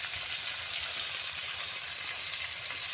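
Meat sizzling in a pan with salt and turmeric added, a steady, dense hiss of frying that runs evenly throughout, close and moderately loud with no talking.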